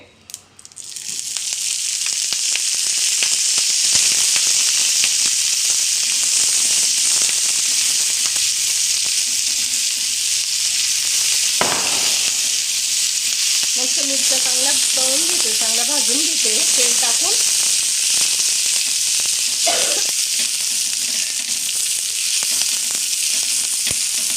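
Hot oil sizzles steadily in a pan while thecha, a coarse chili relish served with millet bhakri, is made, a loud continuous frying hiss running throughout with a brief voice near the middle.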